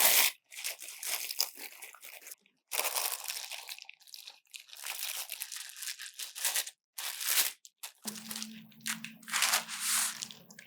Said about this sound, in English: taking some parchment paper, place the pad on the parchment paper,